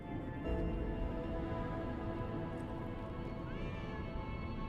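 A cat meows once in the Lies of P video game, a brief, faint call rising over steady, dense game ambience and background music with no talking.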